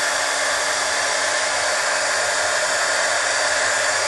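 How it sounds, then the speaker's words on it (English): A heat gun runs steadily for embossing powder on a metal-look birthday card, a loud, even blowing hiss that fills the whole stretch without a break and with no talk over it. "now it's time for the heat gun"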